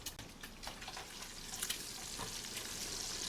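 Bacon crisping and browning in a pan, a steady close sizzle and crackle with scattered pops, heard alone without talk.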